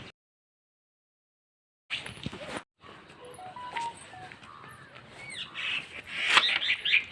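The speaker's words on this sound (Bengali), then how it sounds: "কোনটা আবার শালিক কিচির কিচির কিচির কিচির করে।" Mynas chirping outdoors in the hills around Gangtok: scattered, faint bird calls over a soft background hiss after a moment of silence.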